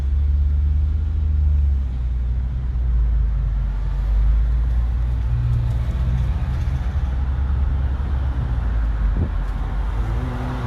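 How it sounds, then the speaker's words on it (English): Steady low buffeting rumble of wind through open car windows while driving slowly past a Beverly Hills, California house, loud and continuous with road noise underneath. "Let me know if the wind is too much."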